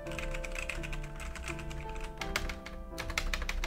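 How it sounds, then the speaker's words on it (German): Typing on a Logitech G910 mechanical keyboard with loud switches produces a rapid, continuous stream of close, clacky keystrokes over a steady background hum. "Auf jeden Fall sind es definitiv andere Switches, die sind viel lauter."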